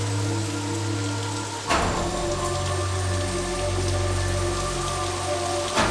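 Heavy rain pours steadily as a dense, hissing wash that fills the whole stretch, with a sudden loud crack or thud near the start and a low humming drone underneath.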